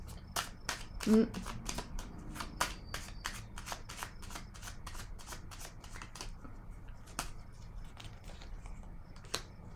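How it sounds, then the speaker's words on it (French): An oracle card deck is shuffled and handled before a card is drawn, producing a quick series of crisp, papery flicks and snaps close by in an irregular rhythm. "je vais piger une autre carte"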